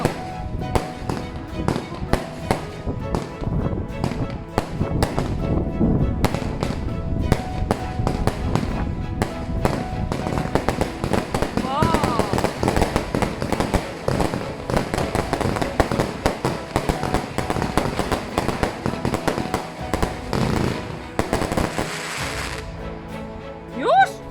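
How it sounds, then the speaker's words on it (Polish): Rapid bursts of New Year's Eve firecrackers crackle and pop continuously for a long stretch, dense and sharp, then stop abruptly near the end. "No niesamowite są te petardy w tym roku."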